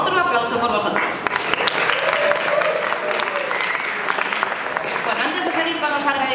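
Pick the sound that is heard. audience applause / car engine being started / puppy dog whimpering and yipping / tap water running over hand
audience applause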